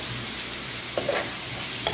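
Onions sautéing with salt in a pan, an even moderate sizzle with a few brief spatula scrapes and clicks, no talking.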